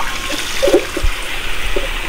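Water is poured continuously over smartphones in a water-resistance test, a steady splashing trickle with soft gurgles, fairly close and without talk.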